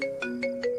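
A phone ringtone keeps ringing on a call nobody answers, a steady electronic tone pulsing in short repeated bursts, clear and close with no voices.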